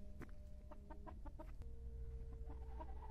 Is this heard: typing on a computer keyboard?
no